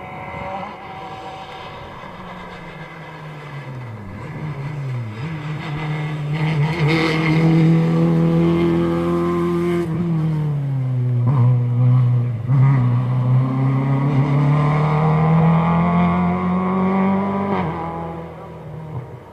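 A Renault Clio rally car engine on a special stage of the Argyll Rally in Dunoon, climbing a hill, growing from moderate to loud as it approaches, with a throaty tone through gear shifts and sustained revs, then fading away.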